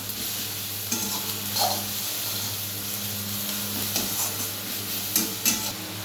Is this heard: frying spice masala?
yes